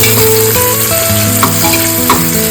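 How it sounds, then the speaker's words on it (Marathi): Chopped onion and whole spices sauté in hot oil for a spicy mutton curry with fresh cashews, giving a steady close sizzle with occasional stirring scrapes, partly mixed with a pitched musical backing. "कांदा थोडा परतून घ्यायचा"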